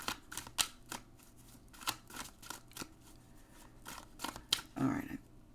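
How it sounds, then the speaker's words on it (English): A deck of playing cards riffle-shuffled in several quick bursts of crisp fluttering clicks, close and fairly quiet, ending with a soft thump as the cards are squared. "I'm going to get these cards out. I'm going to shuffle"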